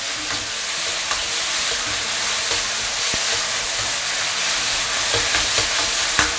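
Shredded pork tossed into a wok of cold oil over maximum heat and stirred apart with chopsticks, giving a loud, steady close-up sizzle and crackle with scraping accents throughout, no talk.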